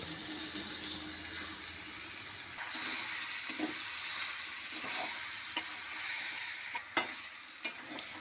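Chicken pieces fry in a little oil in a pan, giving a steady close sizzle with scraping stirs and a few sharp clinks near the end, with no voices.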